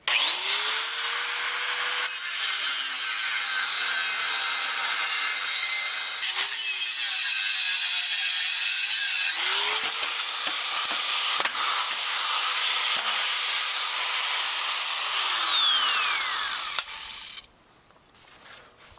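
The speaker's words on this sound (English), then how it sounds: "going to use a little mini grinder with a cutting wheel and nip these off." A small handheld mini grinder with a cutting wheel slices through metal on a boat trailer, a loud continuous high whine with harsh grinding hiss, the motor pitch dipping and rising between cuts before spinning down at the end.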